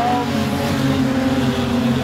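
Street stock race cars roar around the Kingaroy Speedway dirt oval, a loud, steady, droning engine pack that stays close and continuous throughout.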